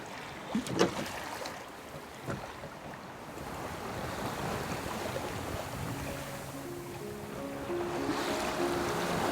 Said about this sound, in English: Now we are approaching the bay of Helvik. It's been a really good sail and it's been so nice to be out on the water.